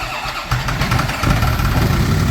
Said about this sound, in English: that rattling noise we hear when we start this car